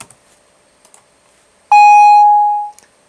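A single synthesized beep generated by Sonic Pi code, a clean steady tone lasting about one second and then fading, with a few faint clicks before and after it.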